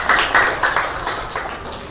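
A classroom of students claps briefly for a classmate, several short bursts of hand claps at moderate distance that fade within a couple of seconds.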